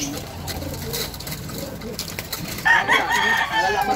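Racing pigeons cooing close by in a loft, soft repeated low coos with brief rustling and a sharper call near the end.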